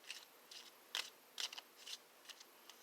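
Small playing cards are shuffled slowly by hand at close range, a string of soft, crisp riffling bursts separated by short pauses in a quiet room.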